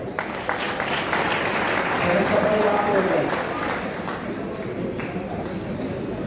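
Applause from a student audience in a university hall, a rolling burst of clapping that swells and then tapers, with voices heard under it.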